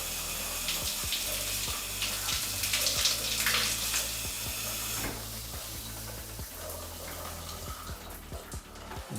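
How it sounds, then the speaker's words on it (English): Water runs and gurgles as a bathtub drains during a home inspection, a steady splashing flow with scattered clicks and drips, close by and moderately loud, fading slightly toward the end. "Wait for it to drain. Everything looks good. Water went down."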